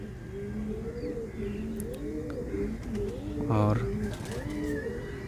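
Indian high-flyer pigeons coo in soft, repeated rolling calls against steady background noise, while someone speaks briefly nearby.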